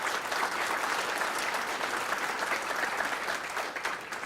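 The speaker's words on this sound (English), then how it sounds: "A round of applause for all these guys." Steady, dense applause from a banquet crowd fills the room at an even level throughout, with no pauses and no distinct voices on top.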